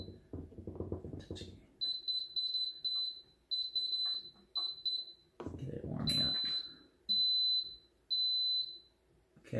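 An Instant Pot electric pressure cooker emits repeated high electronic beeps in short bursts, several groups separated by pauses, with rustling handling noise and movement between them.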